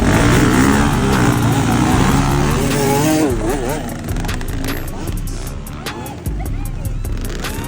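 Enduro motorcycle engines revving at an endurocross race for riders aged 50 and above, with rising and falling engine pitch amid crowd noise and voices cheering loudly over them.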